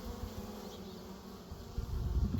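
Honey bees buzz around a farm hive in a faint, steady hum, with a low thump near the end.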